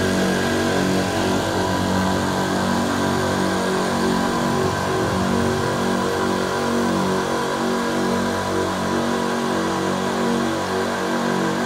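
A Mollar MLR-AC 15150H4 oilless air compressor runs steadily at close range, about 80 cm away, giving a constant loud motor drone with a dense buzzing hum that holds without a break.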